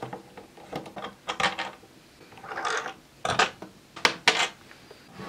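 Case screws being undone on a JDS6600 function generator, heard as a string of short, close metallic clicks and scrapes with a longer rasping stretch in the middle and quiet pauses between turns.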